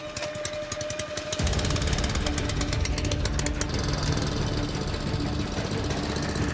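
An engine starts up and runs a gold sluice machine in Greenland, a rapid knocking beat before settling into a loud, steady rattling drone close by.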